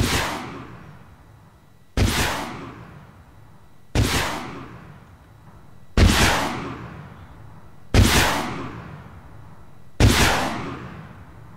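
Rocket artillery fires in the IFA3 Blitzkrieg mod for a World War II video game. Six loud launches come at an even two-second rhythm, each a sharp whooshing blast that trails off into a fading rumble, with no talking.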